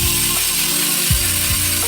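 Chris King bicycle hub with ratchet-type freewheel, spun on a carbon wheel without a tire, gives a continuous loud buzzing of rapid clicks, with a few sharper pulses, close up and with no talking.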